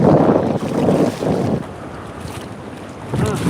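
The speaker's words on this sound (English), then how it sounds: "The wind's not helping either." Strong wind buffets a microphone outdoors on a boat while fishing for catfish, producing loud, rumbling gusts that surge and ease, with a calmer stretch in the middle.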